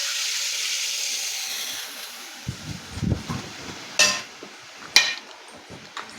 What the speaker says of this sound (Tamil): ஹீட் ஆன உடனே இந்த வச்ச தக்காளி சட்னியை ஊற்றவும்